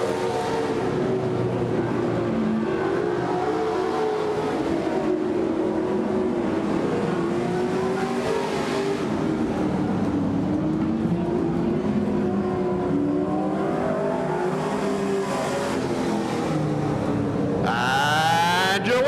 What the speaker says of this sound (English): Here comes Don Source Jr. for the Checkers on a turn 4.